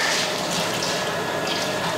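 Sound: pouring sunflower oil into hot copper pot

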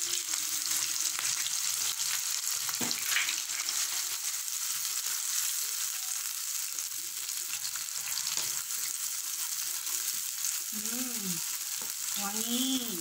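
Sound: egg frying in a pan

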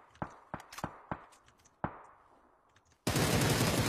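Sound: gunfight gunfire in the video game PUBG

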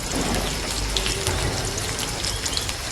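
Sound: garlic frying in a pan for fish curry

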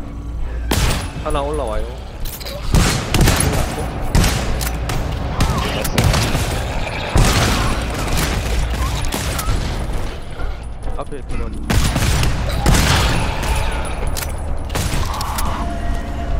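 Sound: gunfire in the video game GTFO

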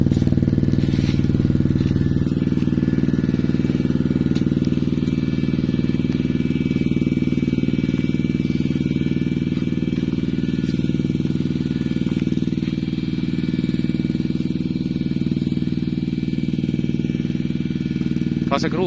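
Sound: single-cylinder motorcycle engine revving

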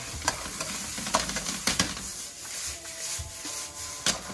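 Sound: celery added to hot oil in wok, sizzling stir-fry

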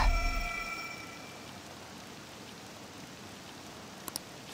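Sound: rain falling in a video game

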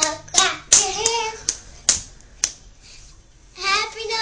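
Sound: hands clapping along to a children's song

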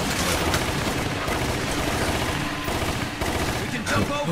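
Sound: gunfire while shooting enemies in Resident Evil Umbrella Chronicles video game

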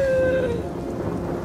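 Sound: rain

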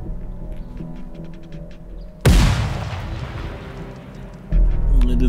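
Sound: grenade explosion in the video game Ground Branch

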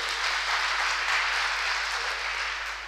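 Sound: audience giving loud applause at a seminar

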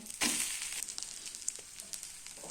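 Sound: amboli (rice pancake) roasting in a pan

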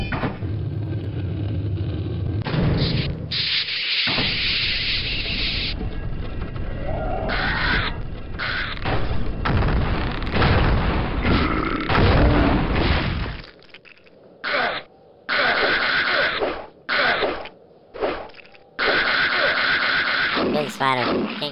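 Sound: 8-bit video game sound effects

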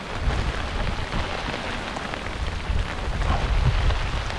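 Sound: sudden rain shower on a lake

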